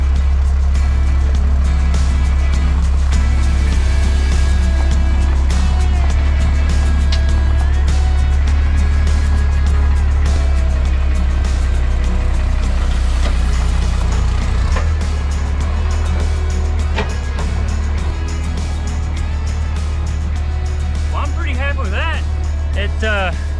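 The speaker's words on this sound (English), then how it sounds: "I'm gonna do a quick little brake test, make sure that the trailer brakes are functional before we head down the driveway" A Chevy C20 truck towing a trailer idles and creeps along during a trailer brake test, a loud, steady low engine rumble running throughout with faint clicks and rattles near the end.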